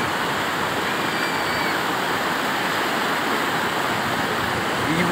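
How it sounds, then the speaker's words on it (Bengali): Strong floodwater current rushing through a flooded area in Udaynarayanpur, a dense, constant roar of moving water, loud and close, steady throughout with no talking. "জলের আওয়াজ শোনো তোমরা।"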